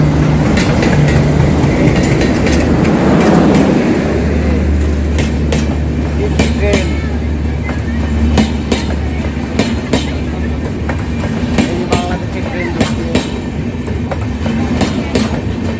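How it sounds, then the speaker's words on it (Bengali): A Bandhan Express train rolls past at Petrapole station on the India–Bangladesh border with a steady low rumble and rhythmic clickety-clack of wheels over rail joints, close and loud throughout. "ট্রেন বেরিয়ে চলে যাচ্ছে"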